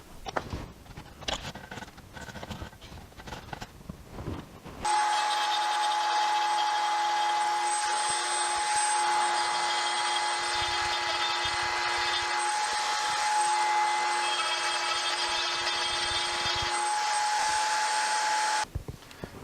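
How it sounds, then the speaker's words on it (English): A wood router spins a wooden dowel down to diameter for a tenon, starting with close scraping and handling noises before the router motor whines up loud and steady for about fourteen seconds, then cuts off. "bring it up to the router and spin it until I get to the right diameter, raising the bit as I need to"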